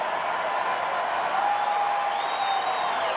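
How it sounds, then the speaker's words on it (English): Sellout stadium crowd at a baseball game, a steady roar of distant cheering and applause filling the air with no break, a few whistles rising above it. "Crowd trying to get this offense revved up."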